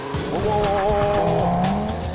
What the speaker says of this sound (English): I'm up first in the beefy 4-wheel drive TT RS.